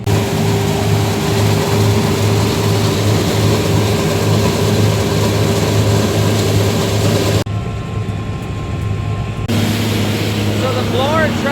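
A tractor drives a corn silage blower during harvest in dry, dusty weather, a loud steady low engine drone with whining machinery running continuously, dipping briefly near the end before resuming.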